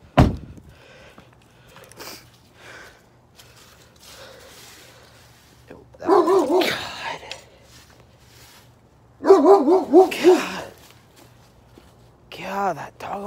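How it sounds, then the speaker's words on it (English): A dog barks in several short bursts of loud, close barking separated by quieter stretches, while a person talks between them. "that dog almost got me a heart attack"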